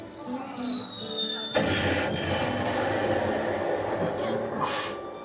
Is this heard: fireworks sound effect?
yes